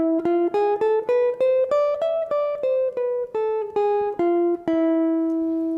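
A guitar picks out the E Phrygian dominant scale note by note, an exotic, Middle Eastern–sounding run of a dozen or so evenly spaced plucks rising and then falling back down.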